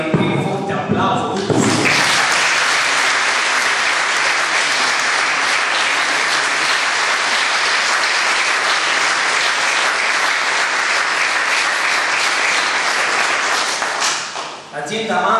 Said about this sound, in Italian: Parlo di Gino Amato, a cui farei il primo forte applauso